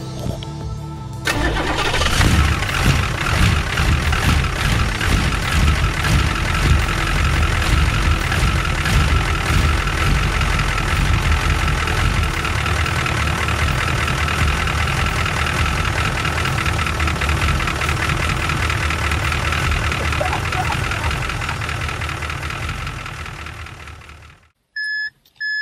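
Oldsmobile 88 with a diesel V8 cranks over and catches, then settles into a steady, loud idle with a rough knocking clatter for over twenty seconds before cutting off abruptly near the end.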